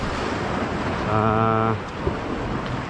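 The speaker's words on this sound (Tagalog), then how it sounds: "Ngayon lang tayo pumupwesto dahil malakas pa yung mga alon" Strong post-storm ocean surf washes against a rocky fishing shore in a constant roaring wash with wind buffeting the microphone, while a brief tonal voice cuts in partway through.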